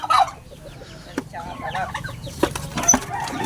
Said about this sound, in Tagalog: nakuha ko na yung ibon na bibigyan natin kay Boss Son